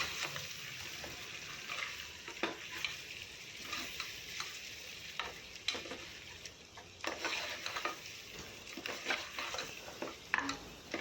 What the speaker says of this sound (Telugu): మనం చేసి పెట్టుకున్న మసాలాని ఇందులోకి యాడ్ చేసి మంచిగా కలిపేసుకుందాం